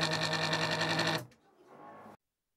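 A modified needle brush pump on an aquarium protein skimmer whirs with a rapid, pulsing mechanical buzz for about a second, then cuts out, leaving a faint softer hum that also stops.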